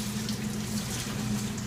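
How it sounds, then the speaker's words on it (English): Fountain water is pumped down a drain sink, making a steady, close rush of flowing water with a low pump hum beneath it, unbroken throughout. "You're pumping the fountain water down this drain sink."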